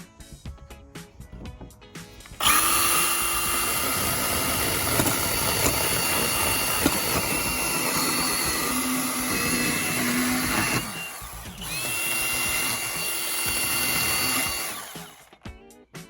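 A Milwaukee M18 hatchet saw starts up and runs hard through a cut with a loud, steady motor whine and buzzing blade, dips briefly near the middle, then cuts again before winding down.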